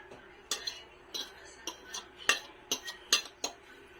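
A metal spoon stirs onions in a pan for pork sisig, making a string of close, sharp scrapes and clinks at an uneven rhythm over a faint sizzle.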